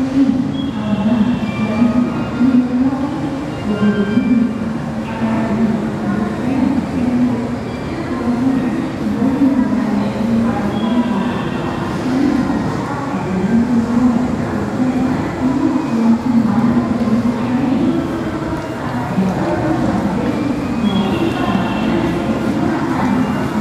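A JR train rolls into Okayama station with a steady low rumble and faint wheel squeal, heard from close by on the platform for a long stretch.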